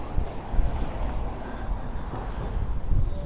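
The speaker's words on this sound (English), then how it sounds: "now the wind is really picking up." Strong wind funnels through a street in Magaluf, Mallorca, producing a continuous low buffeting roar with gusty surges, heavy rumble and microphone wind noise throughout.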